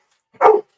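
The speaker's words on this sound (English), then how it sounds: "He's now barking out the window like a fool." A dog lets out a single sharp bark out a window, close and fairly loud, with silence before and after.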